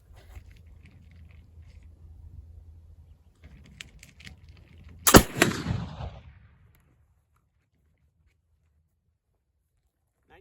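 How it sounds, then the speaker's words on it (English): A single loud, sharp blast from a .54 caliber Kibler Colonial muzzleloader firing 100 grains of 2F Swiss black powder, trailing into a short rumbling decay that fades to silence, after a stretch of quiet low background noise. "shot number 4, technically, with the 100 grains of 2F Swiss"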